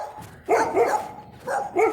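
Small dogs bark in short bursts, one quick pair of yips followed by a pause and then two more barks, fairly close and loud with no talking over them.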